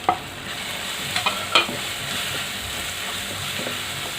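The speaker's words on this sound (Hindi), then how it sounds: "इसको भून लेंगे अच्छी तरह से।" Spices frying with softened tomatoes in a pan for vegetarian paneer keema: a steady, close sizzle runs throughout, broken by a few sharp clinks and scrapes of stirring.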